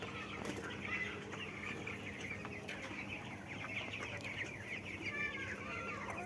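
A flock of 19-day-old broiler chickens clucks and chirps continuously in a shed, with occasional wing flaps and soft background murmuring.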